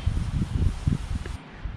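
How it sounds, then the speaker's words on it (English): Strong gusty wind buffets the microphone on an outdoor trail, with low rumbling bursts that rise and fall irregularly and cut off abruptly near the end. "it's really windy today"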